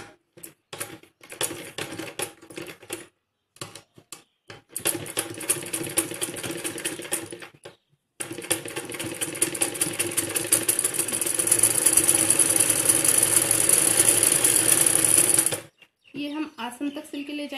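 A sewing machine stitches salwar fabric in short stop-start bursts, then runs a long steady whirring seam that quickens and grows louder before halting.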